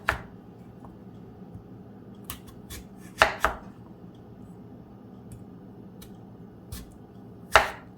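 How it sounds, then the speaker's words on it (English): Sweet potatoes are sliced into thick rounds with a knife on a board, giving a few sharp, close chops spaced irregularly over quiet background. "you're going to make slices about 1/2 inch thick of the sweet potatoes all the way down"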